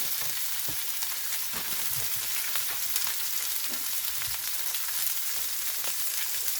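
Peppers cooking on an electric flat-top griddle give off a dense, steady sizzle with scattered crackles and light scrapes, close and even in loudness, with nobody speaking.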